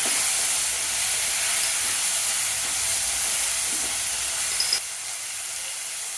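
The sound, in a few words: onion and tomato sautéing in a pan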